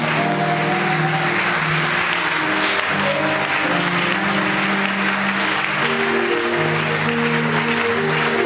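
A church congregation applauds and acclaims the Lord in sustained, loud clapping and cheering, with sustained organ or keyboard tones ringing beneath it throughout.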